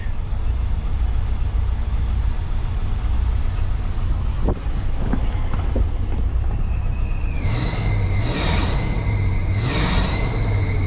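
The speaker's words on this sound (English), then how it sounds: "Hopefully it's just belt squeal." Engine of a 1977 Ford LTD station wagon with the air conditioning running, a steady low rumble joined near the end by a loud, wavering high-pitched belt squeal that rises and dips twice, with a few faint clicks before it.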